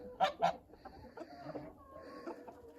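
Grey geese honk loudly twice up close, then keep up softer clucking and honking calls in a restless chatter.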